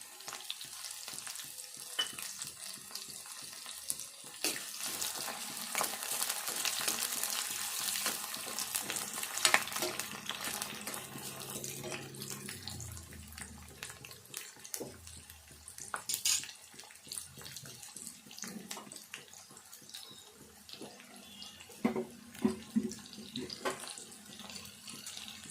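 Sliced onions frying in oil for a meal maker and egg curry, a sustained crackling sizzle broken by stirring scrapes and clatter that ease off toward the end.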